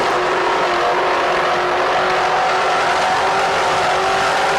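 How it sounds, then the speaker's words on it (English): Racing powerboat engines roar in a continuous loud, steady drone during a race at the Lake of the Ozarks, unbroken throughout with no voices. "Let's listen to more engines."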